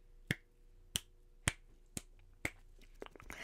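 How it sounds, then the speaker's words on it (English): Five sharp finger snaps at an even pace roughly half a second apart, close and crisp over a quiet room hum, followed by faint rustling. "let me know how many snaps you hear."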